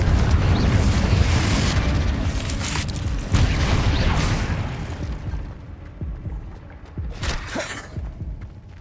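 Confringo blasting spell in the Hogwarts Legacy video game: dense, loud crackling explosions over the first few seconds, easing into scattered thuds and debris, with a sharp burst near the end.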